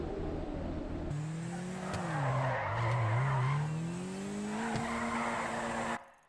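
A car drifts in GTA V with a loud, sustained tire squeal over the revving engine, the screech bending in pitch through the slide before cutting off abruptly.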